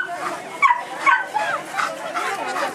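Dogs at an outdoor scouting fair in Ouderkerk aan den IJssel give short yips and whimpering barks, close by and mixed with people talking in the foreground.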